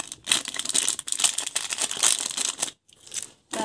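A plastic candy packet is torn and crinkled open up close, with bursts of sharp rustling and crackling broken by short pauses and a final crinkle.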